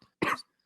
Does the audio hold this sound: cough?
yes